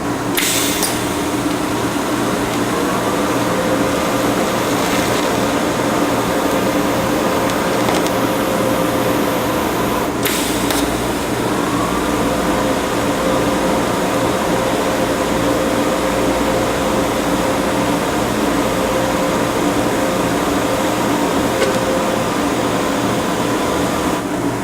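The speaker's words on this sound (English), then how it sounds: "I'm going to go ahead and fix this area here now where the crack existed and actually show the welding process" TIG welding with an HTP Invertig 221 welder, repairing a crack on a 4WD part: a steady, continuous buzzing hiss that holds evenly for the whole stretch, close and loud, with no talk.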